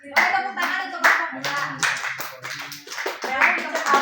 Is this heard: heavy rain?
no